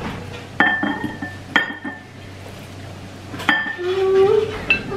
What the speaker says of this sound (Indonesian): Ini saya pakai sendok kayu.